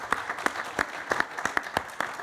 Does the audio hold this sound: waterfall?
no